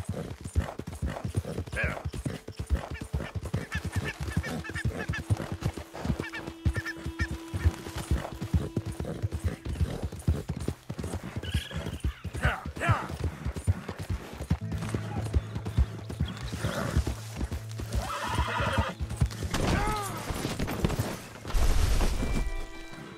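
Horse hooves clip-clopping steadily at a gallop through the game world of Red Dead Redemption 2, with bird and goose-like calls around, a low drone later and a louder thump near the end; no neigh stands out clearly.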